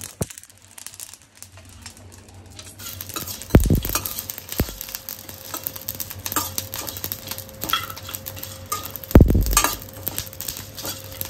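Whole cloves, cinnamon, cardamom and star anise fry gently in a pan for a homemade Telangana mutton curry, giving a low sizzle broken by crinkling, the clatter of cookware and two sharp knocks.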